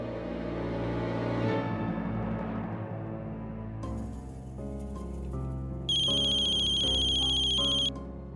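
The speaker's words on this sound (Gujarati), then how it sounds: "કોનો ફોન છે?" A mobile phone ringtone plays loudly with a melodic repeating tune, joined near the end by a brighter ringing burst, with no talk over it.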